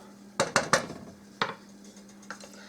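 A spoon stirs chocolate melting in a pot for peanut butter swirl brownies, giving three quick metal clinks close together, a fourth a moment later, then a faint tap.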